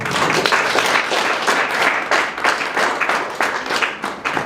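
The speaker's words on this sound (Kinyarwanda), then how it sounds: "mukomere amashyi bano bana" A congregation at a church wedding applauds a young couple, loud rhythmic clapping in rolling bursts that continues throughout.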